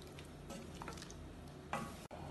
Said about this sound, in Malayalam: ഇത് വീണ്ടും ഇളക്കി മിക്സ് ചെയ്ത് തിളപ്പിക്കാം.